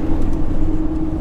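Camper van driving, a steady low road rumble and engine hum heard from inside the cabin, continuous and fairly loud with no talking.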